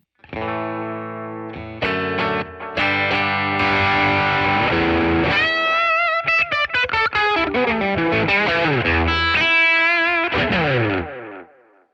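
Distorted electric guitar through a Fender Tone Master Deluxe Reverb amp with delay, notes and bends trailing off in repeating echoes, loud and close, played alone.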